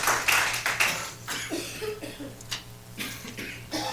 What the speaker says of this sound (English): they're clapping so loud you couldn't hear me